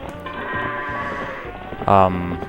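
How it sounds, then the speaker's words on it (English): Goats in The Legend of Zelda: Twilight Princess give a short, nasal, wavering bleat near the end, over steady game background sound while someone talks. "you gotta wonder why the goats turn red when they whoop back"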